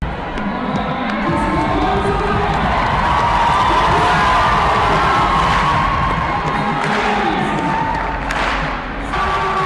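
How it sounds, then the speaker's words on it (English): Loud, continuous roar of a large crowd cheering and whooping at a CrossFit semi-finals competition event, with scattered shouts and thuds running throughout without a break. "Kate Gordon really knew how to get the crowd going"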